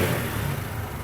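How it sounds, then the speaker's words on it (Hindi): A motorcycle engine that has just caught on the first kick after standing two to three days in winter cold, idling steadily and fairly close with an even, continuous hum and no misfires. "अब आप देख सकते हैं कि बाइक पहली किक पे स्टार्ट भी हो चुकी है और मिसिंग भी नहीं कर रही"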